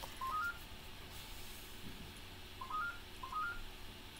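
A phone rings faintly in the background during a live crafting session: short rising electronic tone patterns, one burst near the start and two more later, quiet and distant over a low room hum.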